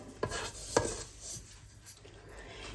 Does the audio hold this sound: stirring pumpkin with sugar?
yes